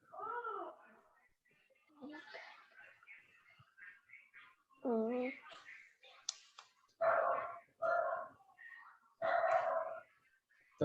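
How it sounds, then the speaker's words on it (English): A dog close by gives a run of sharp barks mixed with high, wavering whimpers and whines. The cries come in separate bursts with short pauses between them. "Sorry, that's my dog. You can hear."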